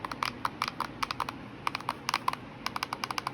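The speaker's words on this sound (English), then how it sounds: "The shoulder buttons and the triggers are also placed in a good position, but they're loud as heck." Shoulder buttons and triggers on a budget retro handheld game console click loudly in quick irregular bursts, sharp close-up taps with short pauses between clusters and no talking.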